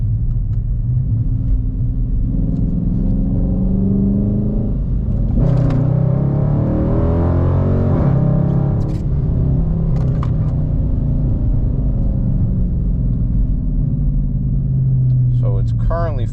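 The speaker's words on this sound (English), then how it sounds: "Let's wait for these cars to pass." Cars passing on a road heard from inside a Dodge Charger R/T, a steady low rumble that swells as vehicles go by, with a brief whooshing pass in the middle, and talk over it.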